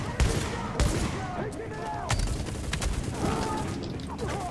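Bolt-action sniper rifle shots in a video game, sharp booming reports at irregular intervals amid other gunfire and mechanical clatter, with someone talking over them.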